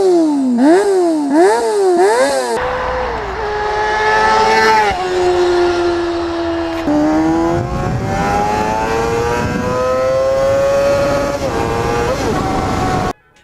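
A Honda CBR250RR inline-four motorcycle engine revs hard, first in quick sharp blips up and down, then in long high-pitched screaming pulls toward its redline, loud and close, ending abruptly.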